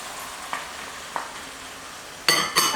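Chopped tomato and sweet potato being mixed into a beef stew, with a couple of soft scrapes early on and then two louder, brief bursts of stirring near the end, close and quiet otherwise.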